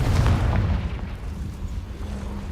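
A Confringo blast spell explodes in Hogwarts Legacy, a heavy close boom that opens loud and then fades into a low rumbling tail.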